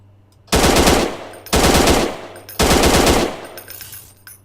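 Three loud, sustained bursts of automatic gunfire in the Martial Law PC video game, each lasting about a second, separated by short pauses, with no talking.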